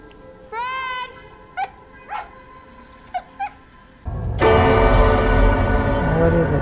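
A dog barks and yips in short, separate bursts with whining tones between them. Then a loud, dense sound swells up and covers the rest.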